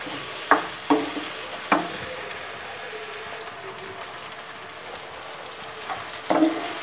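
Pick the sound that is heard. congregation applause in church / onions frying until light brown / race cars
onions frying until light brown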